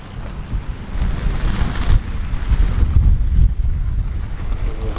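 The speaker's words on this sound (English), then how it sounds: "It's very windy. You can hear the racket from these, like I say, this ticker tape stuff blowing around." Strong wind buffets and rumbles across the microphone at an outdoor classic car and bike show, with loose ticker tape rattling and flapping in continuous, gusty bursts.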